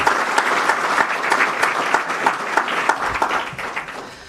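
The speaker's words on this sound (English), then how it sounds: "how about a nice round of applause for Deanna Fallon" A round of applause at a high school athletic hall of fame awards ceremony, steady crowd clapping with distinct individual claps, fading slightly toward the end.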